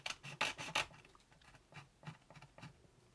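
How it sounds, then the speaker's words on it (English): A hacksaw gently cutting a Gamo MP9 angled foregrip: a few quick rasping strokes up front, then lighter, irregular scraping strokes, close by and without speech. "I am actually going to just gently have a go at it with the hacksaw"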